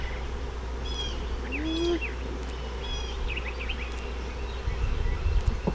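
A bee buzzing nearby amid outdoor ambience, with bird calls chirping intermittently over a low steady hum and a louder rustle near the end.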